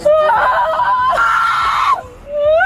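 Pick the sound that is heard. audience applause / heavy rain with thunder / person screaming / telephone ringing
person screaming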